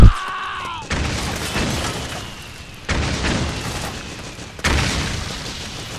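Mortar shells bursting in Metal Gear Solid 4, three loud, close booming explosions in a row, each one cutting in sharply and then a long rumbling roar that slowly fades, no talking.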